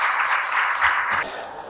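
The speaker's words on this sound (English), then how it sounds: "A round of applause for them" Brief, steady applause from a conference audience for a panel of speakers, a dense wash of clapping at moderate loudness throughout.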